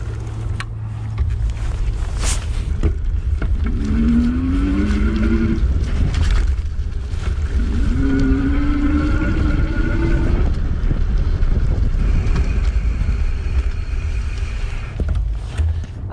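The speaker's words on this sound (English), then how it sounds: "you can just see how quickly that motor starts and stops with that cadence sensing pedal assist" Model M electric bike with a cadence-sensing pedal-assist motor, ridden at assist level 3: a whirring motor whine rises and falls in short bursts as it starts and stops, over steady wind and tire rumble.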